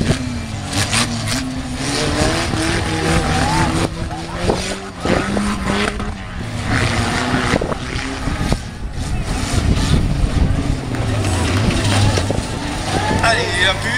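Race cars roar around a track at a Fun Cars event in Chaumont, engines droning loud and continuous with rising and falling revs and occasional tire squeal, while a commentator talks over them throughout.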